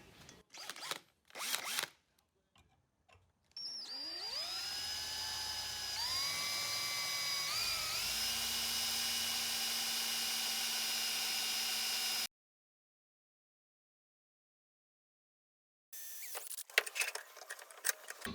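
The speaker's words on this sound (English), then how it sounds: "gonna pre-drill these holes." A high-pitched power drill whines steadily for several seconds while pre-drilling holes on a Bronco build with a 7.3 Powerstroke engine, its pitch shifting slightly as it bites, after short handling knocks and before a quiet pause.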